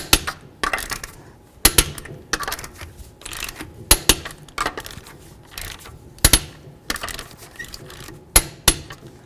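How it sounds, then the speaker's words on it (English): Lug nuts on a 2007-2014 Ford Edge being torqued to 100 foot-pounds with a torque wrench, producing crisp metallic clicks and ratchet snaps at a steady, uneven rhythm, close and alone. "Let's torque these to 100 foot-pounds."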